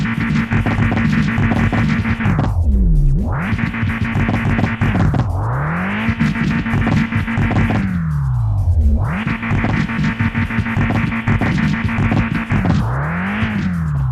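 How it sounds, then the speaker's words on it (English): Hatchback race car engine in the video game Mon Bazou, revved repeatedly in long cycles, pitch climbing to a sustained buzzing hold and then falling back to idle, loud and alone throughout. "The engine officially starts and technically it runs."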